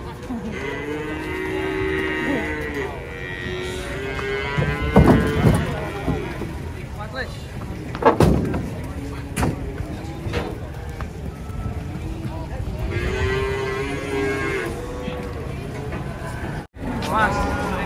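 Cattle moo repeatedly as they are unloaded from a truck, with long, low, drawn-out calls rising over outdoor ambient noise and occasional voices nearby.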